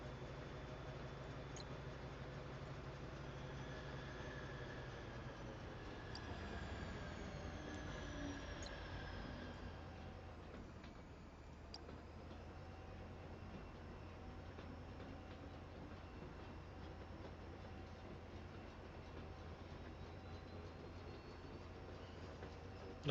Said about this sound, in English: The problem is the train gets going so fast that it starts floating